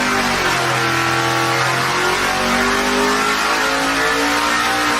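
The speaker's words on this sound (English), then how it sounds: "We're going to dyno Project Pontiac." Project Pontiac's engine revs hard on a dyno at Stinnett Racing, loud and close, its pitch climbing steadily through a sustained pull.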